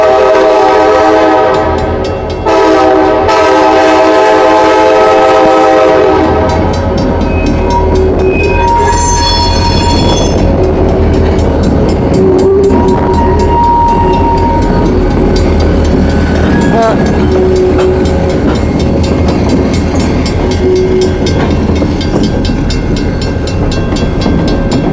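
A long coal train rolls past near Mount Hope, West Virginia, loud and close, with horn blasts over a steady rumble of wheels and cars, sustained for the whole stretch.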